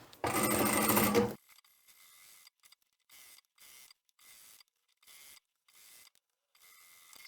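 A sewing machine stitches fabric pieces for a bucket hat. One loud, longer run opens the sequence, followed by a series of short, quieter stitching bursts separated by pauses.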